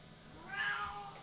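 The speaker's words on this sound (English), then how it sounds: "There's the cat again." A cat meows once, faint and brief, over a quiet background hum.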